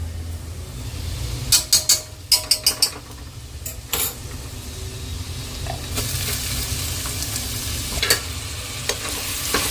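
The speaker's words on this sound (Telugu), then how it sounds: "ఇది సిమ్లోనే పెట్టాను కాబట్టి ఆ ఆనియన్స్ వేగుతూ ఉంటాయి" Onions frying on a low flame in a pan, a steady soft sizzle with a cluster of sharp scraping stirs and clinks early on, then continuous crackling hiss.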